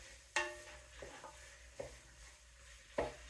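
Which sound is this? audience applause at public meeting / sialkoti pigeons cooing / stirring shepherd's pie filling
stirring shepherd's pie filling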